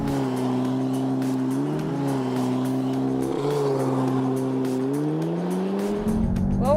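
A car engine revs hard under maximum acceleration on a closed road, running from 0 to 100 km/h in about 4.9 seconds; a loud, continuous engine roar with rising pitch and gear changes, heard close up without talk.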